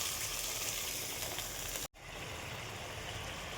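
Black cumin seeds and spice paste sizzling in hot oil, a continuous close hiss and crackle that cuts out briefly for an instant, then resumes slightly softer.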